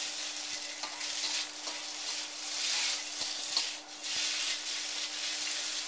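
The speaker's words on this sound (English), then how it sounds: "And cooking, stir frying it." Steady sizzling and crackling of chicken stir-frying in a hot pan, with occasional scrapes and taps of a spatula breaking it up throughout.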